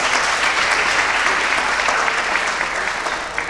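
Loud, dense applause from a conference audience at a UNESCO hydrology programme anniversary event, a steady rush of many hands clapping that tapers slightly toward the end.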